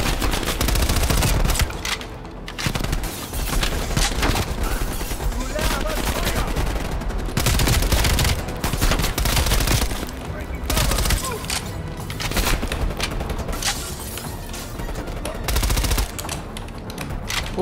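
Shotgun blasts and automatic gunfire in Call of Duty: Black Ops Cold War, a dense, loud, near-continuous barrage of shots with brief pauses, and someone talking over the shooting.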